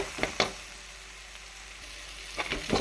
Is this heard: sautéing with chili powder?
yes